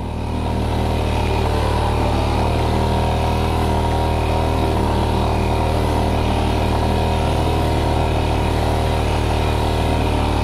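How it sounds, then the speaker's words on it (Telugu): A motorcycle engine runs steadily while the bike is ridden over soft sand on a beach, producing a loud, continuous, close drone with a slight rhythmic pulse. "ప్రవీణ్ బైక్ అయితే వెళ్ళిపోయింది ఆల్మోస్ట్ బీచ్లోకి."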